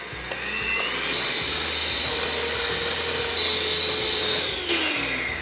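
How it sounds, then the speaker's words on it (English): An electric whisk whips fresh double cream for a tiramisu, giving a steady, close motor whine with a slightly wavering pitch that runs the whole time without a break and with no voices. "using an electric whisk, I'll start whisking the cream"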